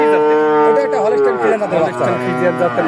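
A Holstein Friesian heifer calf moos loudly and close by at a livestock market, a long drawn-out bellow followed by shorter calls, with voices nearby.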